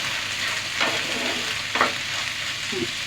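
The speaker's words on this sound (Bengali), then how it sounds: "শাকটা আর একটু ভাজতে হবে।" Malabar spinach frying in oil in a pan gives a steady, close sizzle, with a couple of soft stirring scrapes rising above it and no voices.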